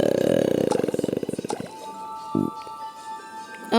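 A long, loud, rumbling burp from a burping bacteria creature in an evolution game, a rapid pulsing croak that trails off, followed by a short squelchy gurgle and quieter sounds.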